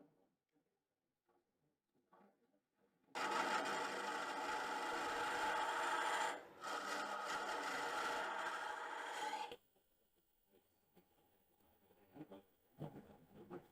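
A handheld woodturning tool cutting a spinning wooden ghost figure on a lathe, giving a steady loud rasping scrape that runs for several seconds, breaks briefly and resumes, then stops into quiet room sound.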